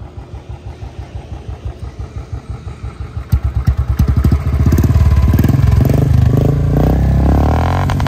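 Modified 2022 Royal Enfield Standard 350 motorcycle engine idling with a steady thump, then revved up loudly in repeated pulses that rise into a sustained high roar, close by.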